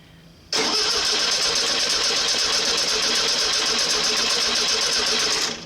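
A VW 1600 engine cranks on its starter for a compression test, with the ignition wire off and the carburetor wide open. The steady, loud, rhythmic cranking begins abruptly and runs unbroken for about five seconds, with no talk.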